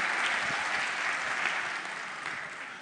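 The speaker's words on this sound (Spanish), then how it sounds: "Un aplauso para los muchachos del máster" A church congregation breaks into applause during a sermon, a dense, bright wash of clapping from many hands that holds steady and loud before easing slightly toward the end.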